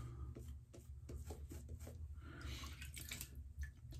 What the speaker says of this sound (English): So I'm gonna add some water